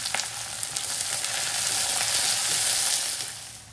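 Chopped onion, green chili and ginger frying in hot oil for rava khichadi, a loud, dense, continuous sizzle with a few faint stirring taps, no voices.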